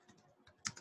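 Keystrokes on a computer keyboard while code is typed, a sparse run of soft taps with a louder cluster of clicks near the end, close and alone.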